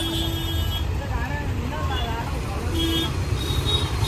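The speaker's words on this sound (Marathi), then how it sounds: "अजून ट्रॅफिक चालूच आहे फुल्ली ना ट्रॅफिक" Heavy road traffic in rain with vehicle engines rumbling and a few short horn toots, while people talk nearby.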